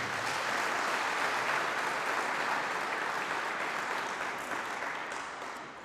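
Sustained applause from a large crowd at a palace farewell ceremony for Ethiopian athletes, dense and steady for about six seconds before easing off slightly toward the end.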